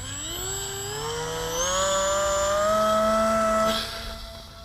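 The electric motor of a very light foam RC pusher plane whines at two-thirds throttle, its pitch climbing steadily before cutting back, close and fairly loud with no talk.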